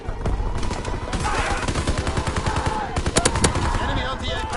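Gunfire in the World War II shooter game Call of Duty WWII, rapid machine-gun bursts and single shots fired close and loud in dense volleys, with someone talking faintly underneath.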